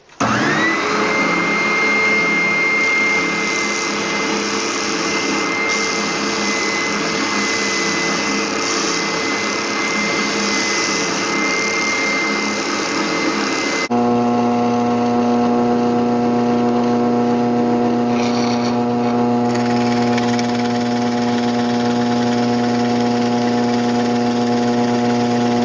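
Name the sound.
spindle sander sanding rounded end of wooden belt gauge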